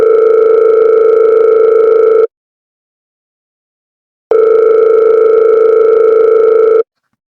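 Two long steady ringback tones, each about two seconds, separated by a two-second silence, loud and clear with no one answering.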